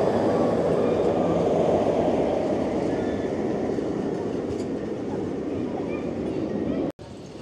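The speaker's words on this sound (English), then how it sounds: "This is the only train ride here at Carowinds." An amusement park train ride at Carowinds rolling along, heard from on board as a loud, steady rumbling roar that holds for the whole stretch and cuts out briefly near the end.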